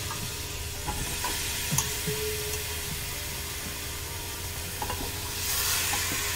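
Goat trotters fry in masala in a pan, giving a steady close sizzle with occasional stirring scrapes and clicks throughout.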